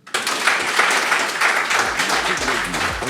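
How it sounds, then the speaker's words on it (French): Dense audience applause fills the hall from start to finish, loud and steady with sharp overlapping claps, closing a live broadcast event with no talk over it. "Sous vos applaudissements,"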